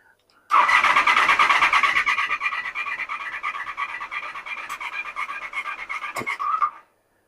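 The starter on a Honda VFR400R NC24 motorcycle cranks for about six seconds, a steady rhythmic whirring close by. The engine, which is not getting fuel and is running down its battery, never catches, and the cranking stops abruptly.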